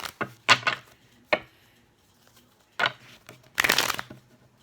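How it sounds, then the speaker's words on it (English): Tarot cards being shuffled up close in several quick riffling bursts separated by pauses, each a papery flutter ending in a soft tap. "I think that's the last shuffle"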